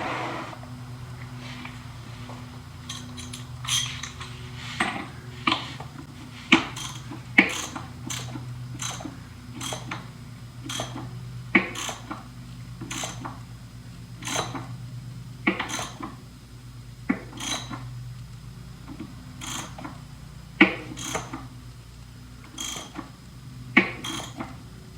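Repeated sharp plastic clicks and ratcheting taps from tightening a plastic hydro oil drain plug on an ISX 2200 riding mower's ZT4400 transaxle, irregular close-up bursts over a low steady hum.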